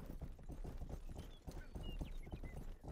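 Horse hooves clip-clop in a rapid, steady rhythm as a horse is ridden in the video game Rustler, with faint game effects over the top.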